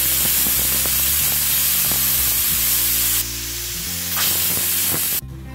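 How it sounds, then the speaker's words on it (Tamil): Pressure cooker on the stove while rajma (kidney beans) cooks, giving a loud continuous hissing whistle that runs for several seconds, swells again near the end, then cuts off abruptly. "ரெண்டு விசில் வந்துருச்சு"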